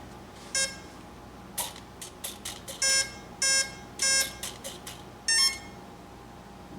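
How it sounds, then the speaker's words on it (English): An Avian Smart Lite 30A electronic speed controller's startup tones sound through the motor: a series of short electronic beeps and chirps, some rising in pitch, spaced irregularly over a faint background hum. "those beeps you hear when you boot it up are the motor making sound"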